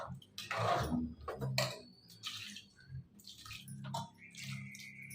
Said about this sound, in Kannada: ನಾನು ನೀರು ಹಾಕ್ಕೊತಾ ಇದ್ದೀನಿ